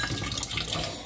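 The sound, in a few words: water being poured into a pot of rice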